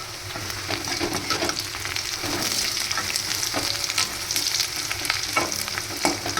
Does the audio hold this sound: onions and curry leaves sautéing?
yes